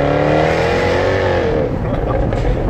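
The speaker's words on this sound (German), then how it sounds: "ich gebe noch mal Gas" A Jaguar F-Type R with a V8 engine accelerating, its loud, close exhaust roar rising in pitch and then easing off, continuous throughout, with possible faint talk underneath.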